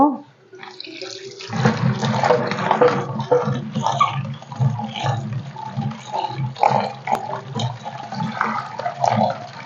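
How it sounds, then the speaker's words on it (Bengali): Tap water runs steadily and fairly loudly into a sink as green cooking bananas are rinsed clean, a continuous splashing flow with small shifts in intensity while the fruit is handled under the stream. "এখন একটু ভালো করে পরিষ্কার করে ধুয়ে নিব"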